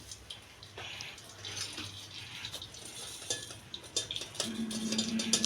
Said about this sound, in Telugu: ఈ నీళ్ళన్నీ పోవాలి